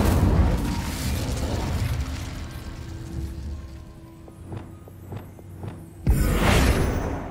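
Spell effects from Hogwarts Legacy, with the Incendio fire spell cast amid loud whooshing bursts at the start and end and a few sharp magical pops in between.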